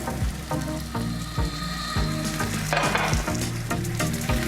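Sliced zucchini and pre-cooked sliced potatoes fry in a pan for a frittata, giving a steady loud sizzle with repeated low clunks and scrapes of stirring throughout, no talking.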